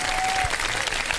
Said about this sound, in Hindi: बिल्कुल ठीक, बहुत सारी तालियां